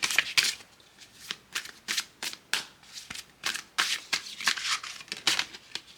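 Tarot deck shuffled by hand in a steady rapid series of crisp, close riffling bursts and card slaps, repeating for several seconds without any voices.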